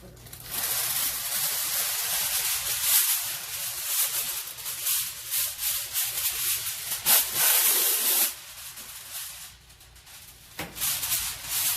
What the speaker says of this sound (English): we're going to get a sheet of aluminum foil and we're going to spray it with some Pam